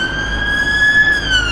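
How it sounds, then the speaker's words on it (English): An ambulance siren sounds on a busy Blackpool street, a loud, steady wailing tone close by over traffic rumble. "no, it's just an ambulance."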